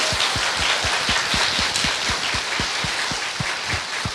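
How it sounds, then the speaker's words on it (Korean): A live talk-show studio audience applauds a guest with steady, dense clapping that holds evenly for several seconds. Heavier hand claps thump at a regular beat within the broad wash of sound. "박수 좀 부탁드립니다"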